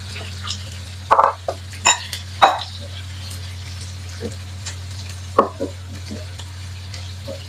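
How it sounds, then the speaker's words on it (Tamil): Onion and garlic sautéing in oil for a chicken and eggplant curry, with a low steady sizzle broken by scattered close spoon taps and scrapes. "வெங்காயம் வெள்ளைப்பூடையில நல்லா எண்ணெயில வதங்கணும்."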